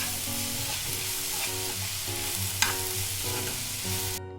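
Curry leaves fry in oil in a pan, giving a steady, bright sizzle and crackle that holds throughout, with a few stirring clinks and a sharper pop near the middle before it stops abruptly.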